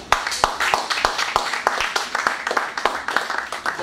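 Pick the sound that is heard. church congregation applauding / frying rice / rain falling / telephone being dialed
church congregation applauding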